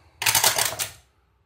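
Dice rattle and clatter across a table during a Pathfinder tabletop game, a short burst of rapid clicking that lasts under a second and then stops, close and fairly loud with no talk.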